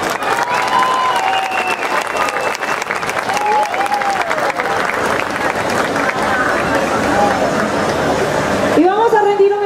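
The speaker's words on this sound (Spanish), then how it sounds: "para quienes piden un muy fuerte aplauso" A large crowd at a cooperative's anniversary celebration in Yarumal applauds loudly and steadily for a band, with whistles rising above the clapping, before the noise cuts off abruptly near the end.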